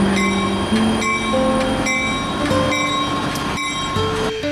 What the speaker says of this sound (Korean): 이 기간 동안 단풍열차는 하루에 한 번만 운행을 하는데 700~800개가 넘는 좌석이 모두 꽉 찬다고 해요.